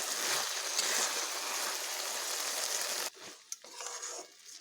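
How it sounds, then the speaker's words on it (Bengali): Fried potatoes being stirred into a hot cooking pan, a steady loud sizzle and scraping that drops off sharply partway through, followed by quieter intermittent frying and clatter. "এবার এগুলো বেশ ভালোভাবে মিশিয়ে নিচ্ছি।"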